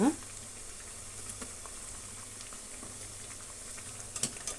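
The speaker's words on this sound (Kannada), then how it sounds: "ಚೆನ್ನಾಗಿ ಡೀಪ್ ಫ್ರೈ ಆಗಬೇಕು" Vada deep-frying in hot oil, a steady soft crackle and bubble with no voice, with a few brief knocks near the start and the end.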